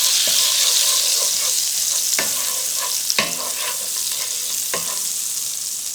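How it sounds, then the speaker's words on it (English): Butter melting and sizzling in a pan to start a cream sauce, a steady bright hiss with a few sharp clinks of a utensil against the pan, close and continuous with no talking. "We're going to melt down some butter."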